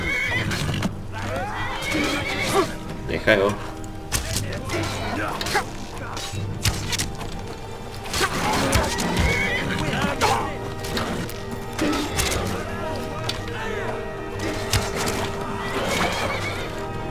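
A horse in the video game Skyrim neighs and whinnies repeatedly over clip-clopping hooves amid game combat clatter, while someone talks in Slovak throughout.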